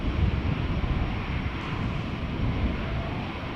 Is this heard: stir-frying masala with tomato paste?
no